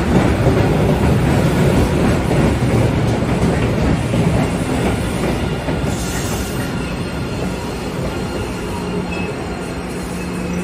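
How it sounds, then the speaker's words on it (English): A Boston MBTA Blue Line subway train runs with a loud, continuous rumble of wheels on rail, faint clatter and a brief squeal partway through, heard close with no talking. "Blue train."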